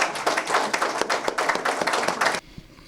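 Brisk applause from an audience at a business news event, a few rows of clapping with distinct individual hand strikes that stop abruptly, leaving faint room sound.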